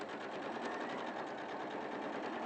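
A sewing machine stitches in a zip with a continuous, even, rapid whirr, steady and close with no pauses.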